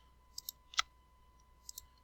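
Light computer mouse clicks, a few soft quick taps with one crisper click in the middle, close and quiet against faint room hum.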